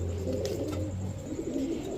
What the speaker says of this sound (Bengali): এরপরে দেখাবো এক জোড়া কাজ করা কবুতর